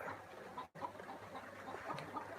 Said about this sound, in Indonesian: Nih, ada ayam di atas guys.